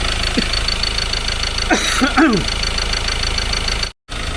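A steady Ford Ranger T6 diesel pickup engine idle rumbles throughout after starting, broadband and continuous, with a brief voice passing over it midway.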